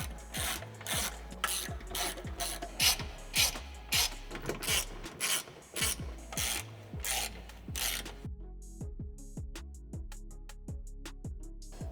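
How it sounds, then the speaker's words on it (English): Ratchet tightening 10mm hex head bolts and button head bolts on heavy-duty bolt-on skid plates under a Rivian R1T/R1S, a close, steady run of rapid rhythmic clicking strokes that continues for several seconds without talk. "tightening those two 10mm head hex head bolts, and then the 4 button head bolts all the way at the front."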